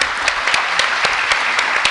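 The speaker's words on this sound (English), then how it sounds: "If we can give them a round of applause." A short burst of applause from an audience at a college parent and family orientation assembly, many hands clapping at once in a brisk, scattered rhythm.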